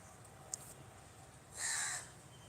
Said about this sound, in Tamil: அந்த பறவைங்க தான் சத்தம் கொடுக்குது